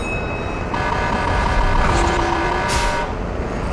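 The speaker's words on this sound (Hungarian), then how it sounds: "Most dudálj te!" A vehicle horn honks in a Call of Duty battle royale match, a loud, sustained tonal blare from a nearby truck over a heavy engine rumble, followed by a brief bright burst near the end.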